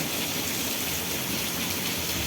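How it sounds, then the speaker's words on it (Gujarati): Heavy rain pours down during a thunderstorm in Vejalka village, Ranpur taluka, Botad district, a dense, steady hiss of downpour close by, unbroken across the whole stretch with no talk. "કેટલા કડાકા ભડાકા સાથે વરસાદ પડી રહ્યો છે"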